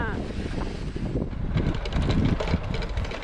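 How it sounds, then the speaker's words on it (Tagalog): Strong wind blows at a beach, buffeting the microphone with a continuous low rumble that swells in gusts over its whole length, loud and close. "Mahangin, guys."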